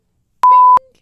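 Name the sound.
censor beep sound effect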